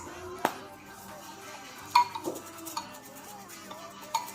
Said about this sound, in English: Keep stirring it around.